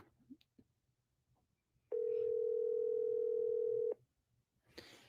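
Ringback tone of an outgoing phone call: a single steady, fairly loud electronic tone lasting about two seconds, starting and stopping abruptly, with quiet room background before and after and no talking.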